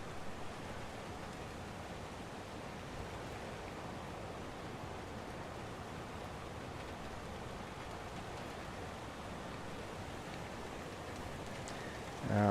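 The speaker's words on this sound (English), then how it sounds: "that rain's starting to get a bit heavy" Steady rain falling outdoors at night during a storm, an even hiss that stays faint and continuous without voices.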